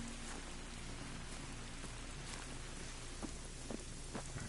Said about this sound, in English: Let's get out of the rain here for a second.